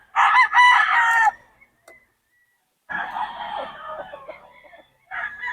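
Roosters crow loudly and close by, a long crow followed by a pause, then more crowing and clucking trailing off.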